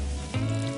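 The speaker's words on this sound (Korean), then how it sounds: "크기가 작은 게를 골라서 튀김옷을 입혀 너무 센 불에 튀기지 마시고 약한 불에 튀기면 됩니다" Small batter-coated crabs deep frying in oil over low heat give a steady, close, continuous sizzle with light bubbling.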